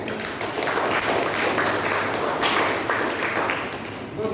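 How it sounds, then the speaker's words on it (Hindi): An audience applauds at a gathering with a sustained, dense wash of clapping and scattered sharper hand claps, fairly loud, with faint voices mixed in. "चलिए आप सब थोड़ा सा और एक तो ताली हो जाए,"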